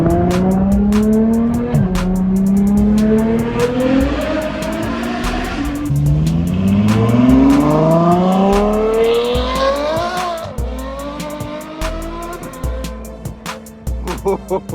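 A supercar fitted with an FI exhaust accelerates hard through rising gear pulls, with loud aggressive engine tone, shifts and crackling pops on the overrun near the end.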